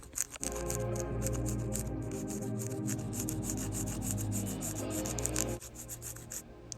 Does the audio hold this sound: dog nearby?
no